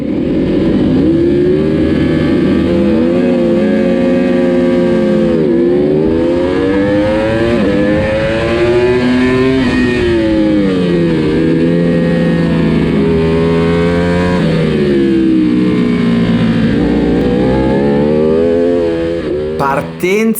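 Race car revving hard and accelerating from a standing start toward the first corner, with loud, continuous engine harmonics rising and falling through gear changes for the whole stretch.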